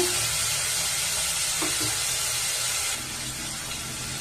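Onions sautéing with a pinch of salt in a pan for a chickpea and potato curry, a steady close sizzle throughout with a couple of faint stirring clinks midway, no talking.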